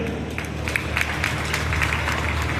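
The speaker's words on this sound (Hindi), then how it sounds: "तो उसके लिए केपी भाई के लिए जोरदार तालियां।" Audience applause at a Swarnkar community gathering, a steady dense wash of clapping from a crowd that holds evenly for nearly three seconds and then stops abruptly.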